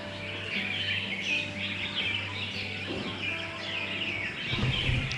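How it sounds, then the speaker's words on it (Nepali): At dusk during the Dashain festival in Nepal, a crowd of birds chirps and twitters continuously at moderate distance, with a steady low hum running underneath. "यहाँनिर चराहरू चराइने चुरुङ गरेछ"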